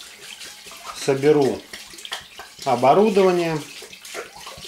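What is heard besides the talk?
water being poured into a pot for distilling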